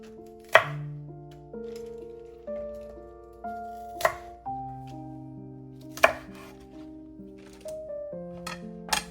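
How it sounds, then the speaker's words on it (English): A knife slicing bok choy stems on a cutting board, sharp clean chops at a steady pace of roughly one every second or two, close and distinct, set against soft background music. "Start by slicing the stems to help break them down so you can more easily add them to the food processor"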